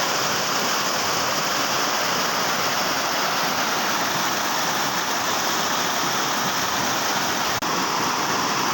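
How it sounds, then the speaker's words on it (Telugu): A steady, full roar of falling water from a waterfall, continuous and loud throughout with no voices. "పై నుంచి అయితే ఇక్కడ కింది వరకు అయితే నీళ్ళు వాటర్ ఫాల్ అయితే పోతున్నాయి"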